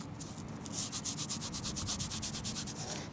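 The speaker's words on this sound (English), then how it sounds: "Let's give it a rub." Rhythmic rubbing on an old 1930s silver threepence coin dug up on a beach, a steady gritty scraping in quick even strokes, close and fairly loud with no talking.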